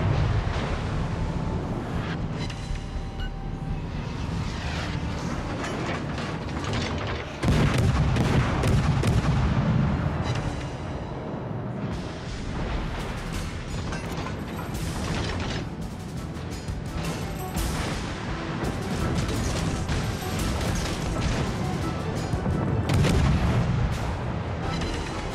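Naval guns fire over and over in World of Warships Legends, heavy booms and cracks pounding out amid a constant roar of wind and sea, with no pause for the whole stretch.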